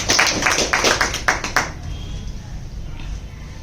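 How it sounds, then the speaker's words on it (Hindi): An audience at a monthly poetry gathering in a Hazaribagh pensioners' office claps together. The loud, dense applause lasts under two seconds, then ends abruptly, leaving quiet room tone. "एक बार हम लोग तालियों से इनका पुनः स्वागत करते हैं"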